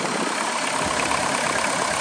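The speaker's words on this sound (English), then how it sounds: "Starts up no problem, just let that glow light go out." A 1999 Volkswagen Caddy pickup's diesel engine runs steadily just after starting, a loud, close, continuous idle rumble with no voices.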